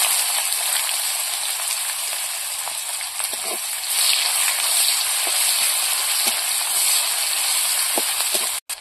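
Bay leaf, whole cumin and chopped onion fry in hot oil, a steady close sizzle with scattered pops and crackles running throughout before a brief drop at the end.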